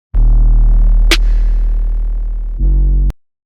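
Two layered snare drums with reverb, processed with stock mixing plugins, sustain as a loud tonal hit with a bright burst near the middle and a short tail, heard alone without talk.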